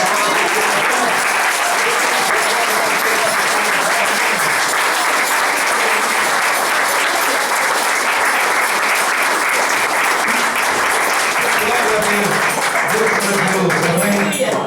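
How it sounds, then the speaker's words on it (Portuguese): Sustained, loud applause from a church congregation fills the space for the full stretch, a dense even wash of clapping with some voices mixed in underneath. "Demos a Ele mais um aplauso"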